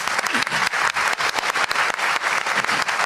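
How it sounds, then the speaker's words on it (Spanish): Church congregation applauding a brother after he speaks, steady dense clapping throughout with no voices over it. "un fuerte aplauso para el hermano."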